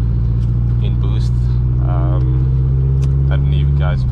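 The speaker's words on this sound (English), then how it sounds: "We've come to the conclusion that the car might be surging." A VW Mk2 GTI with a 1.8T turbo engine and a 76mm exhaust drones loud and steady under boost, with a deep, constant engine tone throughout and voices faintly over it.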